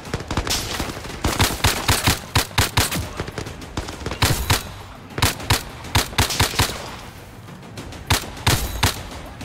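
Gunfire from the VR shooter Zero Caliber, sharp snappy shots fired in quick bursts and single pops, loud and close, with short pauses between volleys.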